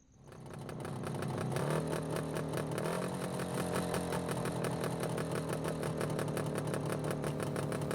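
Motorbike engine riding fast as a horror-story sound effect: a loud, continuous buzzing engine drone that rises quickly at the start and holds steady throughout.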